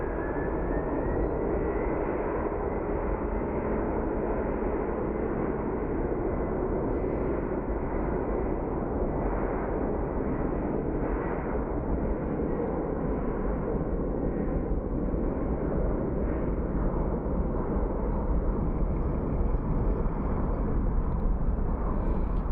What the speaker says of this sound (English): right, let's see him lift off.